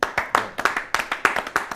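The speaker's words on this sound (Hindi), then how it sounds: "आप जोरदार तालियां उनके लिए बजाएं" Audience clapping for a poet at a Hindi poetry gathering: a small group's claps, distinct and fairly close, coming in quick uneven bursts with no voices.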